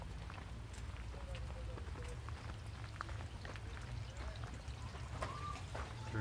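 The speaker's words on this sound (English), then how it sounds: "Are those speakers? Yep. Playing water noises?" Recorded water sounds played through speakers inside a cave in Shenandoah National Park: a steady, low trickling and pouring wash, fairly faint and continuous, with occasional small clicks and footsteps.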